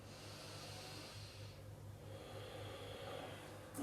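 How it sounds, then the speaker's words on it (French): Soft, steady nasal breathing during a yoga flow in mountain pose, a faint continuous airflow over a low electrical hum with no talking. "On respire par le nez."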